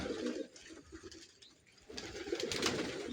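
Young homing pigeons coo in a loft, a soft, close series of low throaty calls that swell again after a brief lull.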